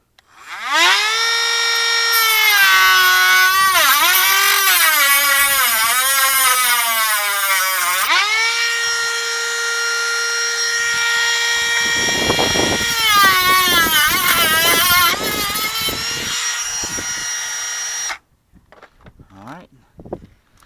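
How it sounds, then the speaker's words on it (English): Battery-powered Dremel rotary tool whining at high speed as it cuts through car battery cable wires on a Honda Accord, pitch dipping and rising under load, close and loud, then stopping abruptly. "get you a Dremel. It's great on these wires. Cuts right through them."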